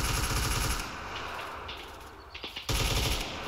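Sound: machine gun fire during suppression drill

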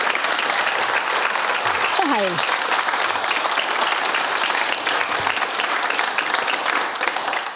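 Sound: audience applause

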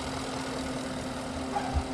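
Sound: Genesis G90 5.0 V8 engine idling

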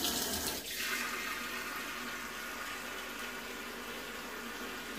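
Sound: hot water tap running

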